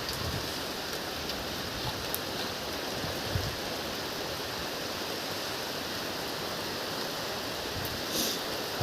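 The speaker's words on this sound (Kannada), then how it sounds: "ಆಗಲೇ ಮಳೆ ಸ್ಟಾರ್ಟ್ ಆಯಿತು ಮಳೆ" Steady rain falls continuously, a broad even hiss with occasional louder drops, moderately close and uninterrupted throughout with no voices.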